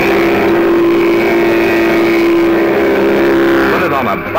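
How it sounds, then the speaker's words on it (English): A loud, steady buzzing engine drone from a Mattel Vvroom toy motorcycle engine noisemaker, with a sustained tone that shifts in pitch toward the end, like a small motor revving up close. "Sounds like a real engine."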